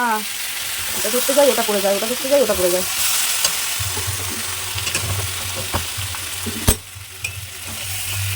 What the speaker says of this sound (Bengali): এবার দিয়ে দেবো চিকেনটাকে ভাজার মধ্যে